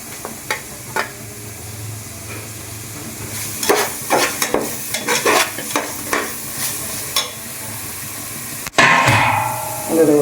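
Ginger and garlic frying in a pan, stirred with a run of sharp spoon clinks against the metal over a low sizzle, then a sudden loud hiss of sizzling near the end.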